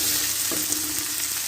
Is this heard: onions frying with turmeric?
yes